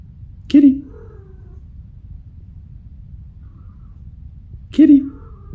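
A pet cat meows twice, seconds apart. Each meow is short, clear and close, with a quiet low background hum in between.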